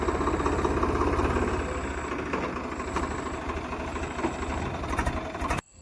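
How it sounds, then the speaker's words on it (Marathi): A tractor engine runs close by with a steady low rumbling idle, which eases off slightly midway before the machine moves away and the sound cuts off abruptly at the end. "आमचा जोरदार निघला ट्रॅक्टर"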